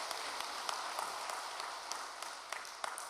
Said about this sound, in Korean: 힘차게 박수 부탁드립니다.